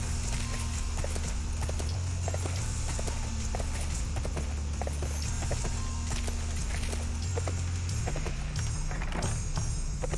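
Horse hooves clip-clop steadily throughout in the fantasy video game Sacred 2, a continuous rhythmic trot over a low droning game soundscape.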